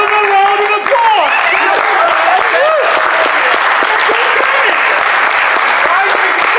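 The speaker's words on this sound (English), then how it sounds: "Give him a round of applause." Loud round of applause from a crowd at a convention open mic, dense clapping running the whole time with whoops, cheers and excited voices mixed in on top.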